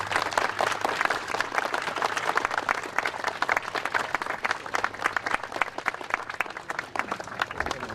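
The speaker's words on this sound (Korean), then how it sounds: "예, 박수 쳐주시면 되겠습니다" Students and guests at a campus safety-blessing ceremony give sustained applause, with crisp, individual claps audible in a steady, moderately loud patter that continues to the end.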